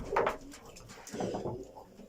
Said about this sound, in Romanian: Am intrat la porumbei.